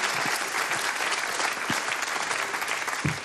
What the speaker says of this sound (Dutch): Mag je voor klappen hoor.